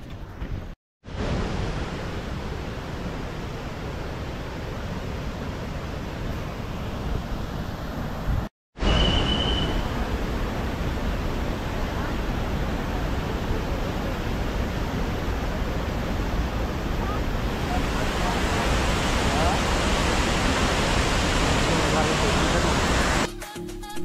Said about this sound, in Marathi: तर चला जाऊया त्या वॉटरफॉलपाशी